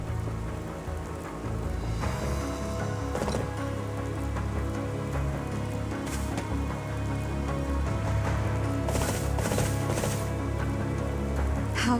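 Steady rain pours down across a video game scene, a dense even hiss of drops on surfaces that continues throughout with no talk over it.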